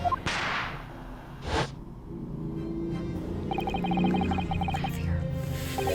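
A video game firework, the Venus special: a sharp whooshing launch followed by a second burst, then a lingering crackling, sparkling tail, loud and close.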